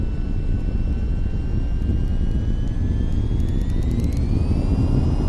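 In the VTOL VR video game, a jet plane's engine roars loud and constant as it accelerates for takeoff, its whine slowly rising in pitch.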